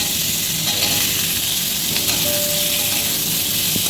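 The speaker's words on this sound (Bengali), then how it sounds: "ওই তেলে আমি এঁচোড়টা ভেজে নিচ্ছি।" Green jackfruit frying in hot oil in a pan, a loud, continuous sizzle and crackle close up, with a faint tonal whine running underneath.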